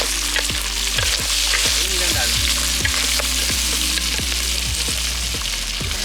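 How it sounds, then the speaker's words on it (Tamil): Tomatoes frying in a pan for a Jaffna-style cuttlefish curry, a loud, close, continuous sizzle with regular rhythmic stirring strokes cutting through it. "தக்காளி பழம் தக்காளி பழம் போடுறோம்."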